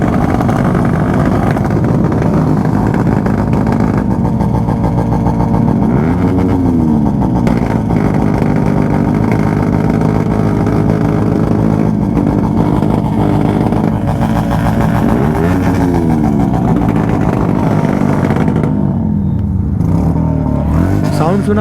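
A loud, powerful sports motorcycle engine roars continuously up close, rising and falling in pitch as it revs, with a voice talking over it.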